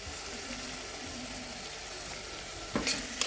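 Sliced onions with salt are sautéed in a pan for beef curry, giving a continuous close sizzle with a few brief spoon scrapes near the end and no voices.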